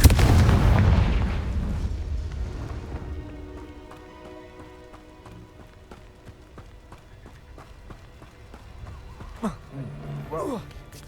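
Confringo fire-spell explosions in Hogwarts Legacy, a loud booming blast at the start that rumbles and fades into game ambience, followed by clattering sounds and a voice speaking near the end.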